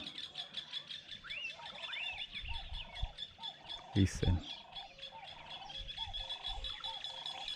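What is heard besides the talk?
morning birdsong in African bush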